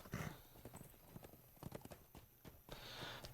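A horse in an online fantasy role-playing game trots with quick clip-clop hoofbeats, and a whinny comes near the start, all fairly quiet.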